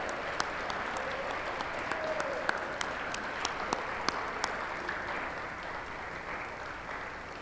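Sustained audience applause at a school athletics awards evening honouring coaches and athletic staff, a dense, steady wash of clapping from a large crowd lasting several seconds with a few sharper individual claps standing out.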